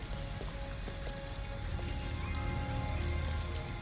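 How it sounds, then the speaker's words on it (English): Steady rain falls in the video game Detroit: Become Human, a constant soft hiss of drops pattering on surfaces with a low rumble beneath, even and unbroken, with no voices. "At least we'd be out of the rain."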